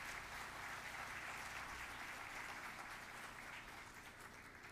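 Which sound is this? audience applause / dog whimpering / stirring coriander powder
audience applause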